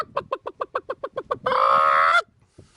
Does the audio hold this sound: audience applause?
no